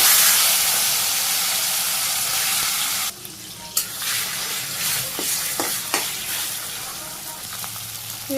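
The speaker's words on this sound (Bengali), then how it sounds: "আমি আবার তেল দিয়ে দিতেছি চরচড়ির মাছগুলো ভেজে নিই" Fish for a Bangladeshi village-style chorchori fries in hot oil with a loud close hiss and sizzle that drops sharply after a few seconds, followed by softer crackling and several utensil knocks.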